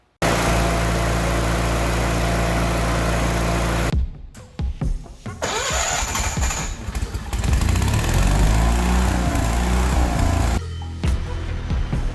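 A small gasoline engine on a salvaged welder, running with a swapped-in carburetor, roars loudly and continuously, briefly dipping and stuttering before revving back up to a steady high drone.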